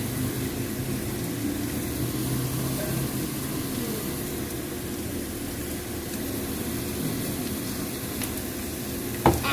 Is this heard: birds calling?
no